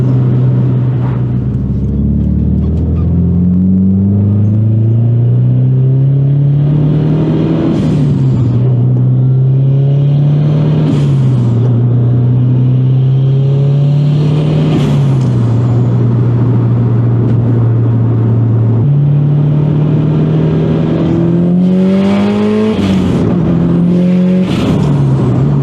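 Built turbocharged Subaru WRX engine revving repeatedly on a shakedown drive on winter tires, rising and falling through gears with loud, close exhaust and turbo noise, several sharp rev peaks, no talking.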